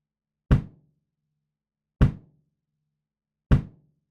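Three evenly spaced drum hits, about one and a half seconds apart, captured by two out-of-phase microphones, sound as short, thin, hollow knocks with quick decays and silence between them.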